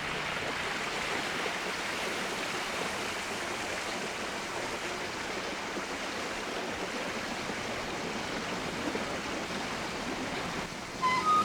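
A bubbling brook runs among trees in Yangmingshan National Park, Taiwan, a steady close wash of rushing water that continues evenly throughout, with no voices.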